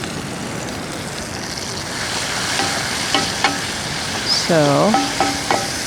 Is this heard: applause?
no